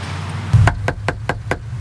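Five evenly spaced knocks rap on the front door of a home, crisp and close, with a faint low hum in the background.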